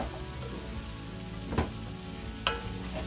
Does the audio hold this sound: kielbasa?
yes